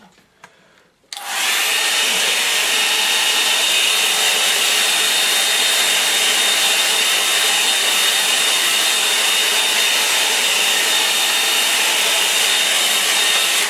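A hair dryer drying a watercolour landscape painting of a rain-soaked heath switches on after a brief quiet moment and blows steadily and loudly, a continuous broadband whoosh with a faint high whine, alone without talk.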